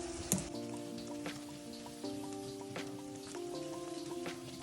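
Tomato paste is mixed into soft, simmering bell pepper vegetables, giving a quiet, steady bubbling sizzle with a few soft spoon taps and scrapes, close and low in level.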